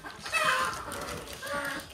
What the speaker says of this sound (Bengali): এটা হচ্ছে মেইন ঝুটিয়ালা মোরগ